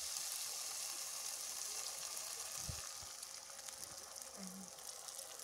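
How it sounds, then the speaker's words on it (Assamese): Spiced water pours into tomatoes cooking in a pan for bhindi masala, a steady broadband sizzle and gush running throughout, slightly easing toward the end, with a couple of faint low knocks and no talk. "এতিয়া আপুনি সেই পানীখিনি বিলাহীখিনিত দি দিব"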